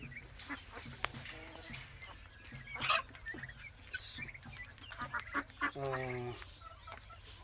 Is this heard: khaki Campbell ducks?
yes